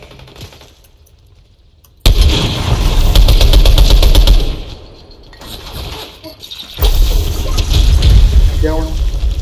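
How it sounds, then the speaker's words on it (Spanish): Rapid automatic gunfire in the Fortnite zero-build battle royale, loud bursts that cut in suddenly, pause briefly, then resume in sustained volleys with a rushing, crackling texture. "Escuché disparos, mira"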